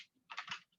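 Bursts of computer keyboard typing during a Python programming lesson, a short cluster of close, quick key clicks with brief pauses around it.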